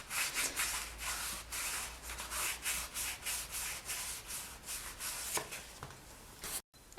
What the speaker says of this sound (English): I'll sand in here from my 400 grit all the way up until my 8000 to get this inside bit nice and soft